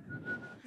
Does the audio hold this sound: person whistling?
yes